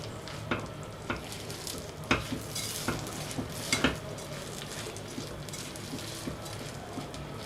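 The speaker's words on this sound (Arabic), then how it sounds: "لما تحطي الرز والسمنه كده تقلبيهم مع بعض كويس" A spoon scrapes and taps against a pot as rice is stirred in ghee, giving irregular clinks and knocks over a soft sizzle, close and fairly quiet.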